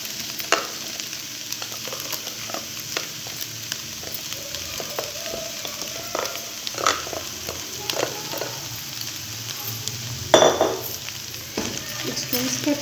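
Mashed potatoes fry in a pan for crispy resha kebabs while a spoon stirs and scrapes, a steady close sizzle broken by repeated clinks and scrapes, with a louder clatter near the end.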